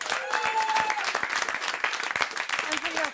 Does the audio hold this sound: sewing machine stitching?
no